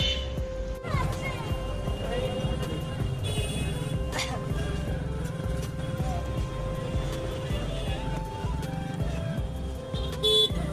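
A car horn sounds in traffic on the road to Rishikesh, with short toots rising over a steady rumble of engines and busy street noise that continues throughout.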